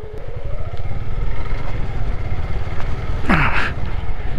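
A motorcycle ridden across a shallow water stream on a rough mountain road in Lahul-Spiti, its engine rumbling steadily nearby with a brief splashing, sloshing burst near the end.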